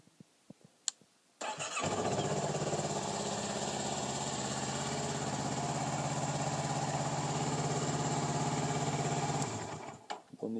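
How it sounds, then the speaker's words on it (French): A Kawasaki ER6N motorcycle engine cranks and fires up during a roadworthiness inspection, then settles into a loud, steady, close idle that runs for several seconds before cutting off. "mise en route moteur."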